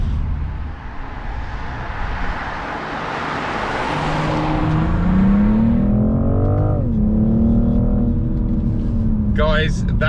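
A BMW M440i accelerates hard, its engine note climbing in a rising rev sweep with a gear change midway, loud and close against wind and road roar.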